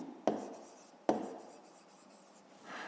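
Pen strokes scratch across paper as a math solution is written out, two sharp taps followed by soft, continuous scratching, close and quiet with no voice.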